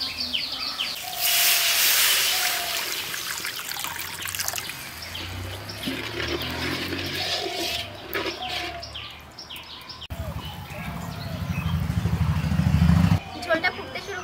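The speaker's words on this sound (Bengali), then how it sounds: "এখন জল দিয়ে দেবো" Water is poured into spiced masala frying in a pan for a magur fish curry, making a trickling, splashing pour that turns into a loud hissing sizzle. Birds chirp faintly in the background.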